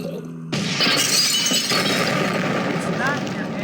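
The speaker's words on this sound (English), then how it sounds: "It's not your average Minecraft glass sound, but it still sounds cool." Glass shatters abruptly and loudly in a Minecraft mod, followed by a sustained crunchy debris noise with a faint tinkle near the end.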